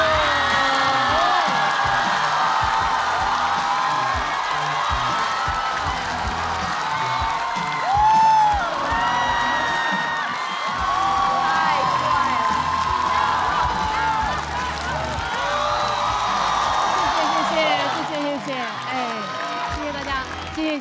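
Audience at a Chinese stand-up comedy show breaks into sustained applause, whoops and cheering as a comedian is welcomed to the stage, a loud continuous crowd roar with shouts rising through it.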